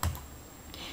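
A burst of computer keyboard typing in a computer class, with a few quick clicks at the start and a softer cluster of keystrokes near the end, close and moderately quiet.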